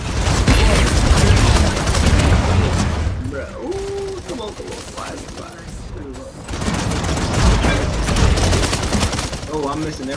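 Rapid gunfire from the video game Paladins rattles in dense bursts that drop away for a few seconds in the middle and then return, with a voice talking quietly beneath.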